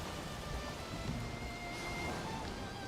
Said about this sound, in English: I wish it wasn't raining right now